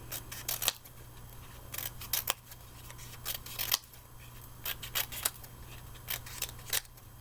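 Scissors snipping paper for a craft, quick clusters of crisp close cuts with brief pauses, quiet and alone.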